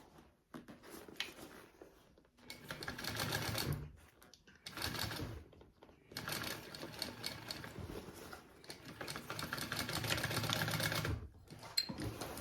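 A sewing machine runs in bursts of stitching around the edge of a bag, its steady mechanical whir stopping and starting several times at close range with short pauses between runs.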